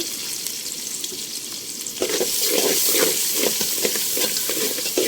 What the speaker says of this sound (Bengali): এবার পেঁয়াজটা আমি ব্রেস্টার মতন লাল করে ভেজে নেব।